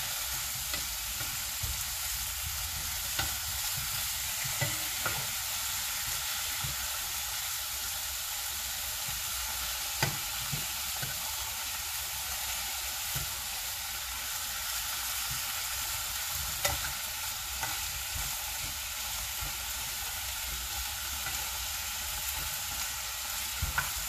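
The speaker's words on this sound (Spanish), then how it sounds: "Vamos a dejar nada más que se sofría para que vaya agarrando el sabor." Oxtail pieces sautéing in a pot with no added oil for rabo encendido, giving a close, continuous sizzle and crackle with scattered small pops throughout.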